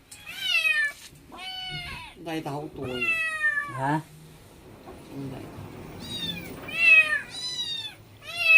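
Caged young kittens meowing for their mother nearby: repeated loud, high mews in bursts at the start and end, with people talking in between.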